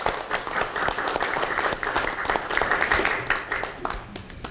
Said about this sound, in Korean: 다 함께 감사의 박수를 드렸으면 좋겠습니다.